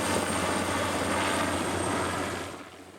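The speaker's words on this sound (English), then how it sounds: "spectators came out early in the morning to check out the new air conditioning unit dropped in by helicopter" A helicopter lowers a new air conditioning unit onto the Del Amo Fashion Center in Torrance, its rotor and engine roaring in a loud, steady wash that eases off near the end, with no voices.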